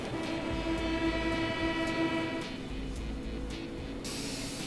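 A tram runs in the city-building game Cities in Motion, giving a steady rumble with a humming tonal drone, continuous throughout and without any talk.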